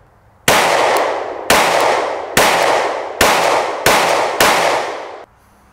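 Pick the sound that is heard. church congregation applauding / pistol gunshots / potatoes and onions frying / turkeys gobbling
pistol gunshots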